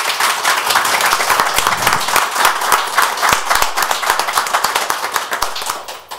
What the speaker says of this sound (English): If we could give them one last round of applause.